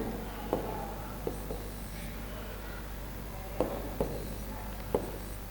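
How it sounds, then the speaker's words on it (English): Chalk or a marker taps and scrapes on a board in a chemistry lesson, several short strokes spaced a second or so apart over quiet room tone. "So once more I will write."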